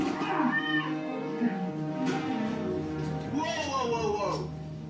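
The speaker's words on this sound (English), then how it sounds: "Oh my god, the cat out there." A cat meows outdoors, its cries rising and falling a few times and mixing with people talking over it at close range.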